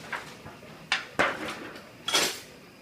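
Dry cavatelli pasta drops into a cooking pot in a kitchen, giving a few separate clattering hits and clinks against the metal pot, each fading quickly.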